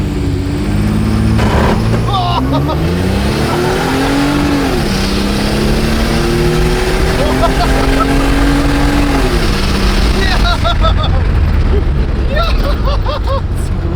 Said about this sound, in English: So you just rev it up in neutral to build a bunch of vacuum